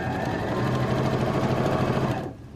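A sewing machine runs steadily, stitching a horizontal quilting line across the middle of a self-binding blanket, a dense continuous whirr at close range that stops abruptly near the end.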